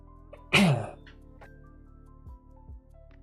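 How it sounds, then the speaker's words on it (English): A single sharp cough or throat clear bursts out near the mic, followed by a couple of faint soft knocks in an otherwise quiet room. "why am I coughing so much?"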